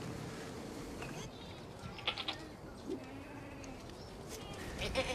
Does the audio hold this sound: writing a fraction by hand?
no